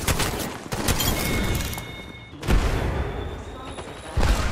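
A grenade blast in the video game Apex Legends: heavy booming bursts and crackling fire come in waves. There is one big surge midway and another near the end, with a voice talking among the noise.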